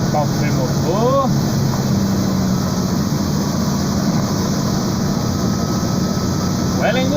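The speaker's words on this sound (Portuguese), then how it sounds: "Vamos voltar o freio motor." A heavy vehicle descends the Serra das Araras mountain road in Rio de Janeiro, its engine brake droning low and steady throughout, with brief background voices and tonal chirps near the start and end.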